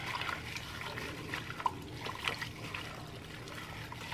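Barbecue marinade mix trickles and pours steadily into a container, a soft, close liquid dribble with a few faint clinks.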